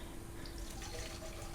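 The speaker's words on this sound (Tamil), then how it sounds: "தண்ணி போட்டு நல்லா அந்த தூசி அந்த டஸ்டெல்லாம் போகிற மாதிரி எல்லாம் நீங்கள் கழுவி எடுத்துக்கோங்க" Wheat grains are washed in water, giving a steady close swish and sloshing of liquid with faint trickles and drips throughout, without any talking.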